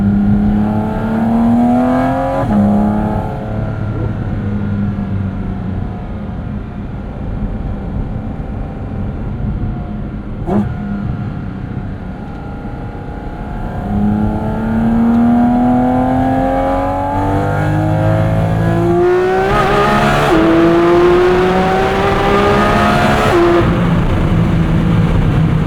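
A 2023 Porsche 718 Cayman GT4 RS engine revs hard while driving, its pitch climbing and falling through repeated gear changes in a loud, continuous, close-up roar with no talk.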